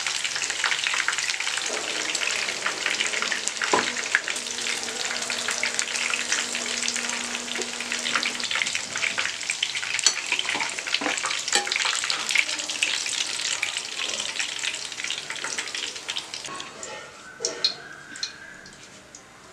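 Chicken lollipops frying in hot oil make a continuous, close crackling sizzle with dense popping and spitting for the whole stretch, and a few clinks of a utensil stirring near the end.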